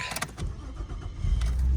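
A Nissan Skyline R34 GTT engine runs close by with some rumbling and mechanical clunks as the car is moved.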